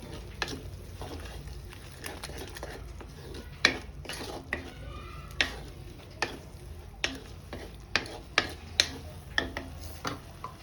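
A spoon scrapes and taps steadily against a pan while masala for Surti paneer gotalo is stirred, sharp clinks recurring every half second or so over a low, soft sizzle, close by with no voices.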